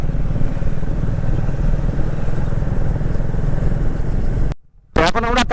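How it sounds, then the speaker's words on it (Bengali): Motorcycle riding along the road to Tajpur, its engine a steady, close, loud drone with wind rumble for several seconds, then a brief dropout before the engine noise resumes alongside a short burst of speech. "ওদিকে নব রাইড করছে কোকোকে নিয়ে, আর ওইদিকে সৈনী একা রাইড করছে।"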